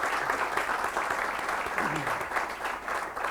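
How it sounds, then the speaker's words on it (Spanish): Audience applause at an education ideas forum held by the Ateneo Mercantil de Valencia: steady, dense clapping from a hall crowd throughout, close and full. "Un fuerte aplauso le pedimos a Carmen de Rosa"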